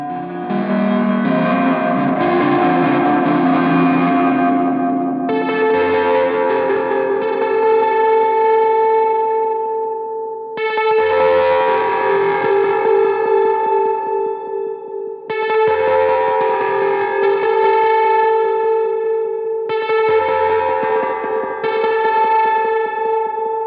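Electric guitar played through a doomgaze pedalboard, run through echo and reverb into distortion, ringing out in loud sustained chords with long washy tails, restruck roughly every five seconds with no voices.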